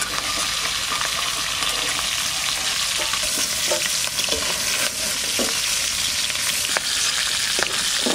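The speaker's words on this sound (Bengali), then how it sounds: "মাছ ভাজা হয়ে গেছে, এবার তুলে নেব।" Magur catfish sizzles in hot oil in a village kitchen, a dense, steady crackling fry with scattered sharp pops and stirring scrapes throughout, close and loud, with no talk.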